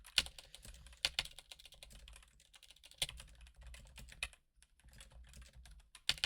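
Typing on a computer keyboard in bursts of quick, close clicks with a few louder key strikes and a short pause midway, no talking over it.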